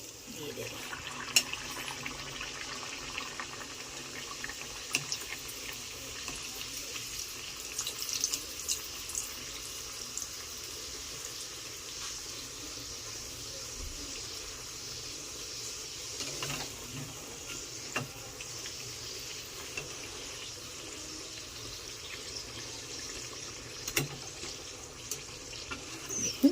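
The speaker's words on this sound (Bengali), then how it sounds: "এবার আমি এটাকে তেলের মধ্যে দিয়ে দেব।" Pea-filled kachori fry in hot oil with a faint, steady sizzle and scattered small crackles, continuous and close.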